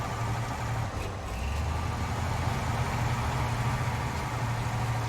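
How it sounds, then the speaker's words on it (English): A heavy Oshkosh truck engine idles steadily in a video game, a low continuous rumble holding even and close throughout with no voices. "I actually like the engine sound in this thing."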